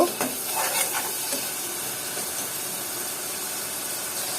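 Onions sizzling and frying in hot oil with salt, a steady broadband hiss with a few brief stirring scrapes near the start, close and continuous with no talking.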